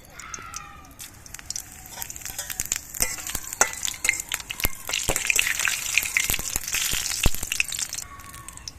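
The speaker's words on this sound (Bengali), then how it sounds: "এই তেলের মধ্যে দিয়ে দিচ্ছি দুটো তেজপাতা, দুটো শুকনো লঙ্কা আর একটু গোটা জিরে।" Bay leaves, dried red chillies and whole cumin hitting hot mustard oil, a loud crackling sizzle with dense popping spatters that builds and stays close.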